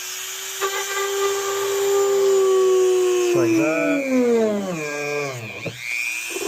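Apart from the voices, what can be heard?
drilling holes with carbide bit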